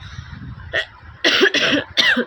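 A person coughs several times up close, one short cough followed by a cluster of harsher, rasping coughs, with quiet background hum between.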